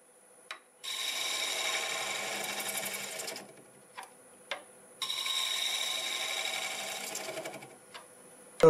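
A negative rake scraper blending a wooden plug on a spinning wood lathe: two sustained bursts of bright, hissing scraping close by, separated by a quieter gap with the lathe's faint whine and a few light clicks.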